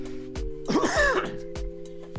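A man clears his throat and coughs in a smoky room, a rough burst of hacking and throat noise with a few short voiced sounds before and after.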